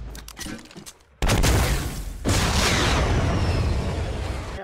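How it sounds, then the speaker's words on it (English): Rapid bursts of video game gunfire and heavy explosions crash in, then a sustained roar of continuous blasts and shooting fills the rest, loud and dense. "You can see the explosions."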